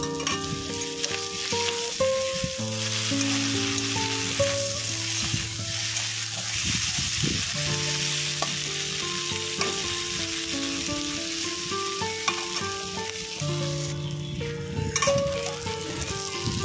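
Prawns frying in oil in a pan for an Odisha-style prawn curry give a steady, continuous sizzle throughout, with tonal music playing underneath.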